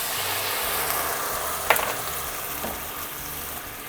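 White wine sizzles and hisses in a hot pan of browned onions over high heat, a steady close frying crackle with a brief louder splash partway through, no voices.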